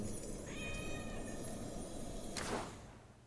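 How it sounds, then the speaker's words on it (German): Cat meowing in the video game Hearthstone, with a faint drawn-out meow over a low game background and a sharp bright crash near the end. "da ist die Katze von..."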